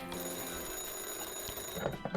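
A telephone rings in the Car Dealer Simulator video game, a steady trilling bell held over game background, with a few brief clicks near the end.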